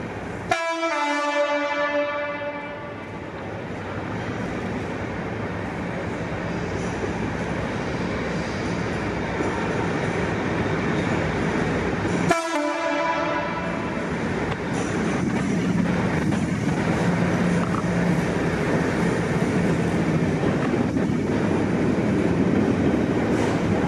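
A British Rail Class 93 locomotive passes close by, a long, loud rumbling train with two sharp horn blasts, one at the start and one about halfway through, over steady clickety-clack from the wagons.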